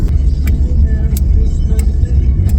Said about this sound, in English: we're driving through a school zone